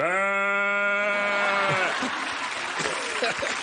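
A man imitates a goat with a long, wavering nasal bleat that lasts nearly two seconds, followed by laughter and chatter from a studio audience and other people.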